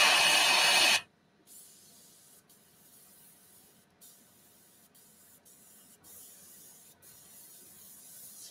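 An airbrush sprays model paint in a loud, close hiss for about a second, then cuts off, leaving only faint clicks and quiet handling of the paint cup.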